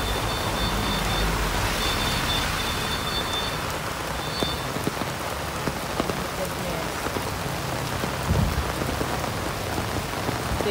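Heavy, continuous rain pours steadily and loudly over a flooded subdivision, a constant hiss of drops on surfaces with occasional faint knocks underneath.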